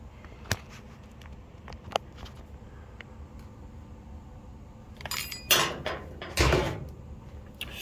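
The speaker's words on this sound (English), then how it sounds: "let's get this carburetor apart" Metal carburetor parts from a Murray 24-inch rear-engine riding mower clink and clatter as it is taken apart: a couple of sharp isolated ticks early, then a close burst of rattling metallic handling near the end, with no talk.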